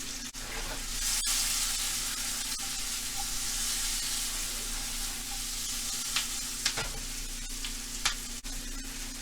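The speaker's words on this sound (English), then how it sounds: "I'm just lightly sauteing this." Chopped onion and garlic lightly sautéing in a pan, giving a steady close sizzle and hiss throughout, broken by a few sharp utensil taps.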